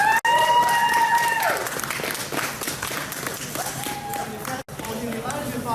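An audience at an Earth Week talk in Trois-Rivières claps steadily for several seconds, with a few voices and whistle-like tones over the dense clapping before it tapers.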